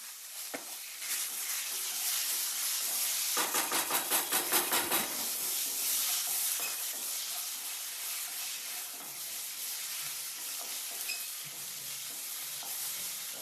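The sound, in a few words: tomatoes frying and being stirred for Kerala chicken curry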